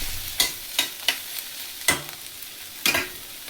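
Spoon strokes stirring freshly grated coconut into cooked bitter gourd in a pan, five crisp scraping knocks spaced irregularly over a faint background hiss, no talking.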